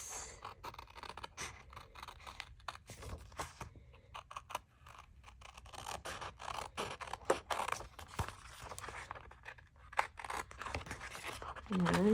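Card paper being trimmed for an envelope on a corner fold card, a run of crisp cutting and scraping strokes close by, with talk over them.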